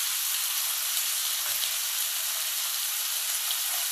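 Tomatoes with salt sizzling in a pan as a dense, even, continuous frying hiss, close and steady throughout, with no voices.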